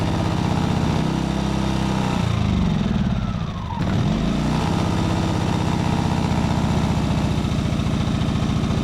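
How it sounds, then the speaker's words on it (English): Petrol generator engine idling steadily after a choke start, a loud continuous mechanical drone with a brief dip in level midway before settling back to an even run. "So the generator is running."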